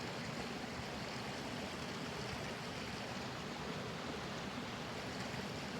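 Creek water flowing at a trout fishing spot, a constant soft wash of rushing water, even and fairly faint, with no talk.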